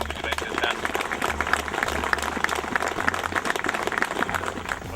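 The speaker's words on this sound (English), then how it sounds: "That's the guy that deserves the big round of applause" A gathered crowd at a behind-the-scenes event applauds with steady, moderately loud clapping throughout, while a voice talks over it and a low rumble pulses underneath.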